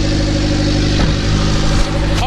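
A turbocharged Honda EG9 fitted with an LSVTEC turbo kit idles at about 1100 rpm, a steady, close engine hum with a smooth, even pulse and slight flutters throughout.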